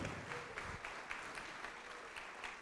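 A church congregation applauds together in a steady, moderately loud wash of clapping that holds evenly throughout, with no voices standing out.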